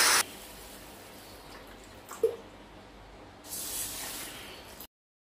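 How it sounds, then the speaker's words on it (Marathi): Water is poured into a bowl of dalia and a pot of yellow moong dal for rinsing, with a short splashing burst at the start and a longer steady hiss of pouring later, alone in a quiet kitchen. "आता दलिया आणि डाळीत पाणी घाला।"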